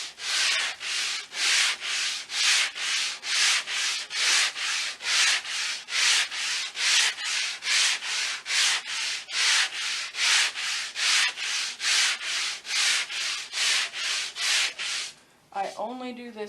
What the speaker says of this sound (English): I then take a sanding block of some sort.